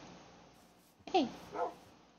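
A dog in the video game Minecraft gives two short, faint barks or yips after a quiet stretch of low ambient background.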